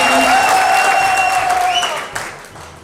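Audience applause at a business motivational event, a dense, loud wash of clapping with a sustained tonal ringing over it, fading toward the end.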